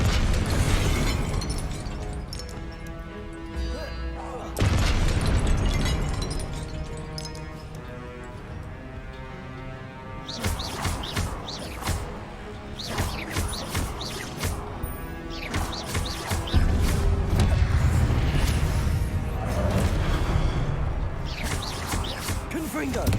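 Booming Confringo fire-spell explosions go off repeatedly in Hogwarts Legacy, sharp bursts over a steady musical game bed, with a voice speaking in between.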